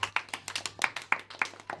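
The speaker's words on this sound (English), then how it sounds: "I don't know why you're clapping" Sharp hand claps in an irregular burst of about a dozen close, crisp slaps, alone with no talk, during a tabletop role-playing podcast session.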